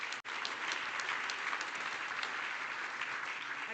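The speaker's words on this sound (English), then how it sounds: "Let's give our sponsors a big round of applause" A conference audience at an oil and gas event gives sponsors a round of applause, a sustained wash of many hands clapping with a brief dropout near the start.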